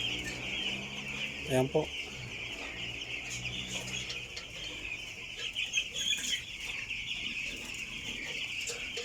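Eleven-day-old broiler chickens cluck and peep together just after being moved into a roomy grower house on a farm. The chatter is continuous at close to mid range, with one short spoken phrase and a brief wing flutter early on.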